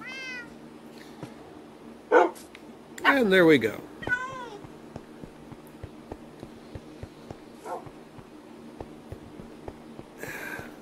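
Pet cat meowing in Minecraft Bedrock at night, a few short close meows in quick succession, one louder burst midway, set against quiet game ambience with someone talking briefly.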